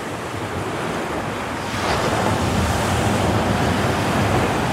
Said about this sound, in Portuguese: Escuta aí o barulho das ondas, das fortes ondas aqui em São José da Coroa Grande.